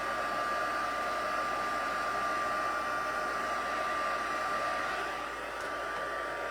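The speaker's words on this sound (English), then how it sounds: "Always takes a minute when you start out with a cold heat tool. And then it goes pretty quick after that." Heat tool for card crafting running continuously, a steady close blower hiss with a constant whine, alone and unbroken throughout.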